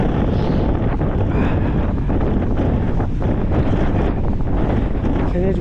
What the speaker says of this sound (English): You can hear the wind's gone up.